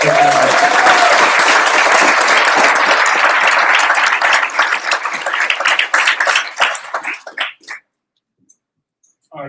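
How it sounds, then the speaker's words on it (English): A Startup Weekend crowd bursts into loud, dense applause that holds steady for several seconds, then thins into scattered claps and stops, leaving near silence. "Give her another round of applause"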